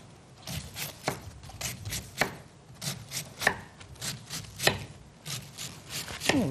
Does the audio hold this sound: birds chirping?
no